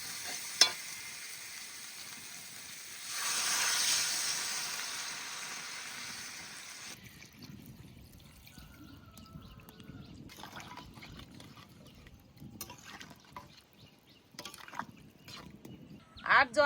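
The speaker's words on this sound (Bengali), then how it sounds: "এবার জল দিয়ে দেবো।" Water poured into cauliflower and potato curry frying in spiced oil for a village fish curry gives a loud sizzling rush that peaks and then fades into softer bubbling and stirring. Faint voices can be heard around it.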